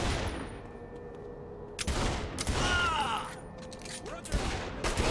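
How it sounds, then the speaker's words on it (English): Automatic gunfire in Saints Row: The Third breaks out in several loud sustained bursts with sharp shot transients, mixed with game effects and spoken dialogue. "We're under fire."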